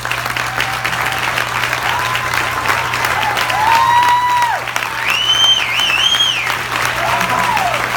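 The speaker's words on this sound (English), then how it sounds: "let's give them a round of applause" A conference audience applauds its board of directors: a steady, dense wash of clapping that holds at full level for the whole stretch, with a few cheers and voices mixed into the crowd noise.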